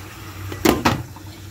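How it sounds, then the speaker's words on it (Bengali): A pot lid set down on a pan while bok choy cooks with egg, two quick close clattering knocks about a quarter second apart over a low steady kitchen hum. "আমি এইভাবে ঢাকনা দিয়ে ঢেকে দিচ্ছি প্রায় 10 মিনিটের জন্য"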